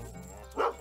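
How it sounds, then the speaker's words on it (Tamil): A small puppy in a Tamil film scene lets out one sharp, loud bark near the end, rising over a faint humming background. "பார் குட்டி நாயை எப்படி டியூன் பண்ணி வச்சிருக்கா"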